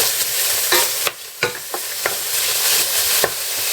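Loud, continuous sizzling of bacon frying in a pan, broken by a few sharp scrapes and taps as it is stirred.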